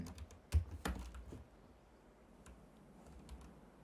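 Computer keyboard keys tapped in a few quick clicks to enter a noclip console command in Counter-Strike 2, sharper at first and then lighter scattered taps, close and fairly quiet.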